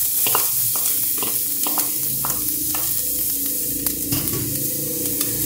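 Onion hits a hot pan beside a seared chicken breast and sizzles steadily and loudly, with short scrapes and taps of stirring throughout and no talking.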